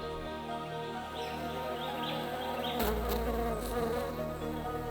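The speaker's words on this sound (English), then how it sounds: "A nectar-drinking honeybee makes a meal of formidable size for their nestlings." A nectar-drinking honeybee buzzes close by near a fantail nest in the bush, a continuous whining drone with faint bird chirps in the background.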